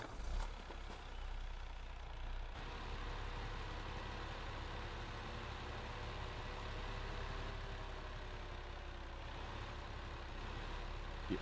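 A truck in Farming Simulator 2015 on Xbox One drives with a steady, heavy low engine drone and a faint whine running evenly throughout, with no talking.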